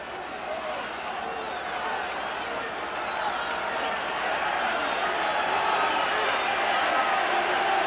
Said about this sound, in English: And this crowd hasn't let up all night.